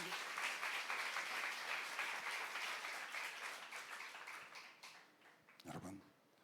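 Congregation applauding during a church sermon, dense clapping that holds steady and then thins and fades toward the end, with a brief louder bump just before it trails off.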